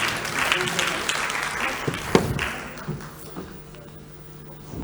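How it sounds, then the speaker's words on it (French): An audience at an e-tourism startup contest and social media awards applauds the jury, a dense round of clapping that gradually thins and fades, with a few sharper claps and talking underneath. "Merci de les applaudir"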